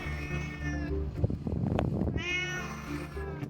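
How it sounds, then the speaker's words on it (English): A talkative cat meows nearby, giving one drawn-out meow, then a stretch of muffled rustling, then a second long, wavering meow. No talk is heard. "So my cat here likes to talk too much."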